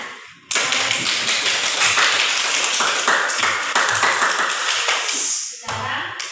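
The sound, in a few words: group clapping hands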